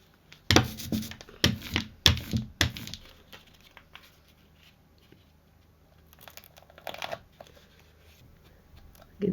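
Paper torn by hand during a papercraft butterfly project: a quick series of sharp ripping bursts in the first few seconds, then faint rustling and handling sounds in a quiet room.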